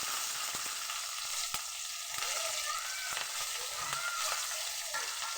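Slit green chillies sizzling in hot oil in a pan for prawn curry, a continuous close frying crackle with a few sharp spatula clicks.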